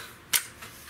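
A Hatsan break barrel air rifle firing a 50 grain JSB pellet at 20 yards gives one short, sharp crack, followed by a faint second tick a moment later.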